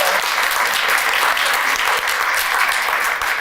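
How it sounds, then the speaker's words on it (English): A big round of applause for panelists at a university alumni career panel, dense sustained clapping from the audience, loud and even throughout. "I think we should give our panelists a big round of applause."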